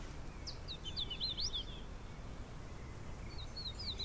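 A hooded warbler sings at a distance: two bursts of clear, high, slurred whistled phrases, one early and one near the end, over a steady low outdoor rumble.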